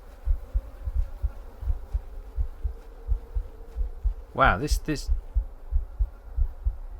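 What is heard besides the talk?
heartbeat in the video game The Excavation of Hob's Barrow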